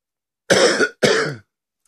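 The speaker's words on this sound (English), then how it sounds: "the incessant coughing has made it a bit more challenging" Two harsh coughs from someone with a cold, one right after the other, close and loud, then silence.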